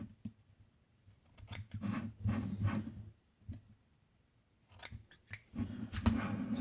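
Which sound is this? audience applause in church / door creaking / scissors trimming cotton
scissors trimming cotton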